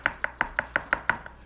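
A knife chops food on a cutting board in a French home-cooking kitchen, making seven crisp, evenly spaced chops in a steady rhythm, close and clear with no talking.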